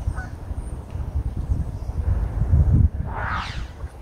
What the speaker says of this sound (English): Look, lots of ducks and geese